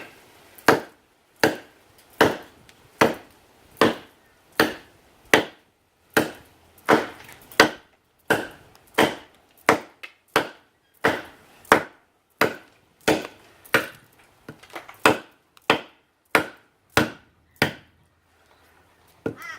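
Heywood camp chopper knife biting into a piece of wood, about twenty-five sharp, evenly spaced chops ringing out close and loud, each with a short woody crack.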